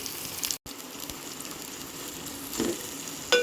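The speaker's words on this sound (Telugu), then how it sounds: "మేము రెండు ట్రిప్పుల్లో వేపుకుంటున్నాము ఈ ఫ్రైడ్ ఆనియన్స్ని" Sliced onions frying in oil in a batch, a close, steady sizzle with brief stirring scrapes and a short dropout, without speech.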